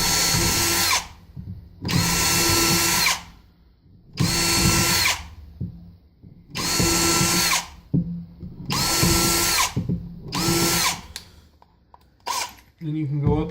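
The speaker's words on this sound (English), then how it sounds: "Still drilling acrylic" A power drill bores through an acrylic turkey pot call blank in a workshop, running in about five loud bursts of a second or so each, with short pauses between and a few brief clicks near the end.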